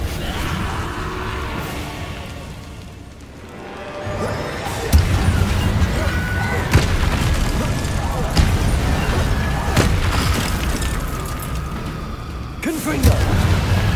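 Depulso force-push spells blast in Hogwarts Legacy combat alongside Confringo casts, a handful of sharp, punchy booms spaced a few seconds apart over a dense bed of battle effects and occasional voices.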